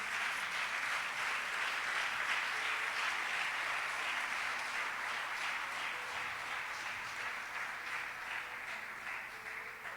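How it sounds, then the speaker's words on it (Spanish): Sustained applause from a church congregation honoring the Holy Spirit, a steady dense wash of many hands clapping at even loudness throughout, with a faint tonal hum underneath and no clear speech. "Denle un aplauso al Espíritu Santo."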